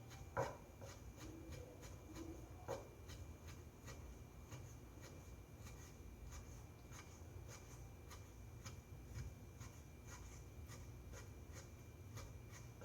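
A knife taps rapidly and evenly on a cutting board, finely julienning beef for yukwonjeon at a Korean cooking certification practical; the soft, regular strokes sound faint against a steady background hum.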